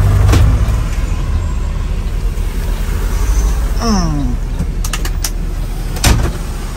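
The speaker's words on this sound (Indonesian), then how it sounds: "Nah, berangkat Bang Des di balik kemudi." A night bus idles with a deep engine rumble, then pulls away, with a rising whine as it moves off and short hissing air bursts near the end, loud and close.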